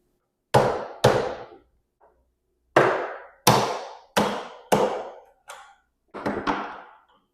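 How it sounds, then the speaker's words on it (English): Sharp wooden strikes as a chisel cuts a piece out of wood, about eight hammer-on-chisel blows in uneven pairs and clusters, close and fairly loud, with short silences between. "now use your chisel and chisel this piece out right here."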